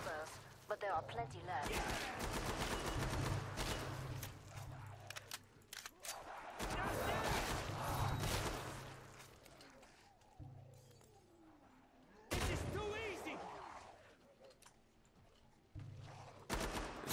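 Gunfire and explosive bursts from the co-op zombie shooter Killing Floor 2 come in dense, loud volleys that start, stop and resume, set against game music and background noise with no talk.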